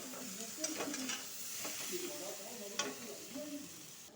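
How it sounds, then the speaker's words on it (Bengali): Boiled potatoes, cut into large quarters after pressure cooking, fry lightly with curry leaves in a soft, quiet sizzle, punctuated by gentle stirring scrapes. "এখন কারি পাতার সাথে একটু হালকা ভেজে নিব"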